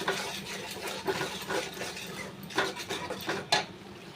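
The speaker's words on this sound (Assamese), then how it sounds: "দি অলপ লাৰি দিওঁ।" A spoon scrapes and clinks against a cooking pot while spices and salt are stirred in, with irregular metallic knocks and scrapes, close and fairly quiet, no talking.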